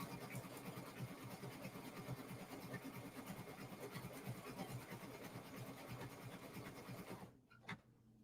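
A Brother ScanNCut machine cuts an appliqué design in a steady, continuous mechanical whir with rapid rhythmic stepping, close and constant for most of the span, then stopping abruptly near the end.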